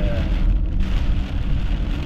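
Rain from a small convective storm patters steadily on a surface, a dense and fairly loud hiss close by with no voices.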